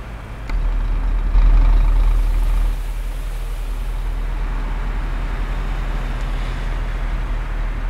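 A bus engine in Euro Truck Simulator 2, on an Indonesian map mod, rumbles low and steady at idle, briefly swelling louder before settling back to a constant hum.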